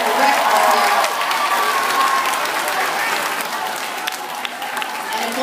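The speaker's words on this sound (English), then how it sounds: "Give them a round of applause who supplied the record here." Audience applause, a dense steady patter of clapping from a crowd that stays fairly loud and gradually thins over several seconds.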